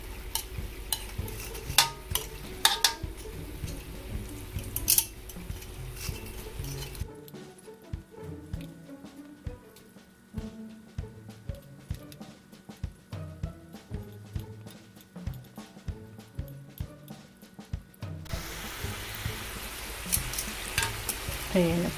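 Buchi filled with ube fries in a pan of oil, giving a soft steady sizzle while the pieces are turned, with scraping and light knocks that come in a quieter, rhythmic stretch in the middle.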